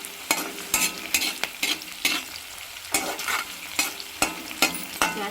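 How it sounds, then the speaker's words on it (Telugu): Tempering spices and chopped small onion fry in oil over a low flame for potato fry, with a steady sizzle broken by sharp, rhythmic scrapes of a stirring spoon against the pan; no one speaks. "పోపు మంచిగా వేగాలండి, అప్పుడే మంచి టేస్ట్ అనిపిస్తుంది"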